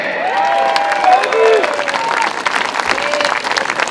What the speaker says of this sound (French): Je vous prie d'applaudir Éric Becker.